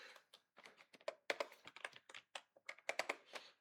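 Rapid bursts of keystrokes on a computer keyboard while editing a PDF in AcePDF Editor, irregular clusters of clicks and taps, close and moderately loud, with no voice.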